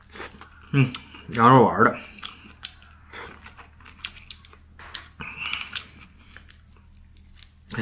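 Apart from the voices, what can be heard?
biting and chewing a homemade lamb dumpling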